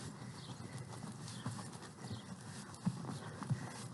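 Horses walk on a ranch with faint, irregular hoof clip-clops at a distance, a few sharper steps standing out over a quiet outdoor background.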